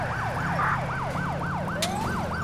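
An ambulance siren in the video game GTA IV wails in a fast, steady, repeating up-and-down cycle, loud and close over a low engine drone, with no talking.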